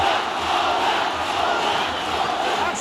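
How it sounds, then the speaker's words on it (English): A large arena crowd at an MMA bout between Aung La N Sang and Vitaly Bidash roars and cheers in a steady, dense wash of noise with no pauses. "And the crowd get into it again."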